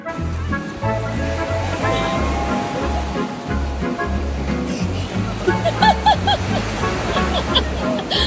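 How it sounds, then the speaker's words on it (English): Ocean waves wash and surge at a beach, a steady broad roar running the whole time beneath a voice speaking over it. "Chili tried to show Weller just how fun the ocean can be"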